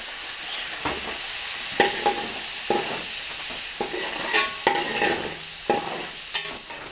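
Tomato and green chillies frying in oil for a country-style chicken curry, a steady close sizzle broken by repeated sharp scrapes and knocks of a spoon stirring against the pan, no voices.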